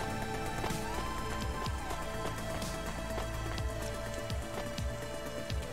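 Steady rain pours in the video game Cloudpunk, a dense continuous hiss with scattered drop patters over a low background hum and faint tonal game music, constant throughout.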